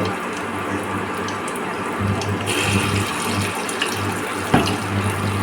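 Potato pakora balls frying in hot oil on an induction cooktop, giving a steady, even sizzling hiss throughout with one sharper pop near the end.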